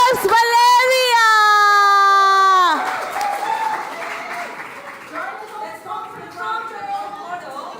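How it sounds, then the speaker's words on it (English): Crowd at a climate solutions awards ceremony claps for the awardees. A sustained, voice-like tone comes first, then a loose wash of applause and cheering with voices talking over it. "Big round of applause to the awardees."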